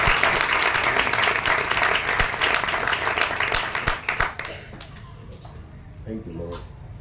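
A church congregation claps vigorously in broad, dense applause for several seconds, fading toward the end as a voice begins speaking over the quieter tail.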